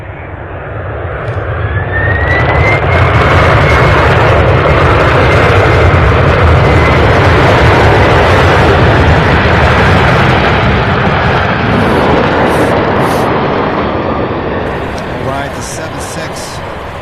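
An airliner arriving at Louisville International Airport from Salt Lake City, its engines building into a loud, sustained roar with a rising whine as it passes close, then slowly fading, with talk faintly underneath.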